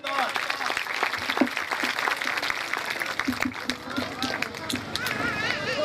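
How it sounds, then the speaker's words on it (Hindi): An audience at a school annual ceremony claps steadily throughout, a lively, sustained applause with a voice intermittently audible over it. "आपकी भरपूर तालियों में उमर सरदार।"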